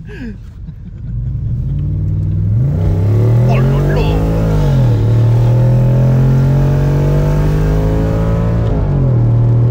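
Audi S4 B7 estate engine revving hard under acceleration, a loud rising and falling drone with clear gear-change dips, heard from the cabin as a passenger briefly exclaims over it.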